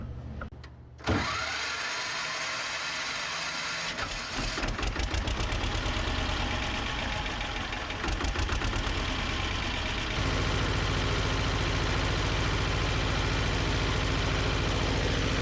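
A Belarus 250AS tractor's diesel engine cranks briefly, catches and settles into a steady clattering idle, with the knock shifting in rhythm a few times; loud, close and continuous, with no talking.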